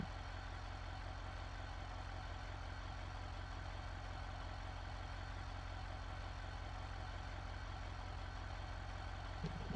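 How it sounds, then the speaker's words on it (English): A car engine idling in the BeamNG.drive driving game, a steady low rumble with an even rhythmic pulse, constant and moderately faint with no voices. "I can hear the car"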